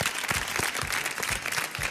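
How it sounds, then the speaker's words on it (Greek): A studio audience claps for a guest on a Greek TV show, a full, continuous burst of applause with no break and no speech over it. "ένα μεγάλο χειροκρότημα για τον Αποστόλη τον Τότσικα που ήταν σήμερα εδώ"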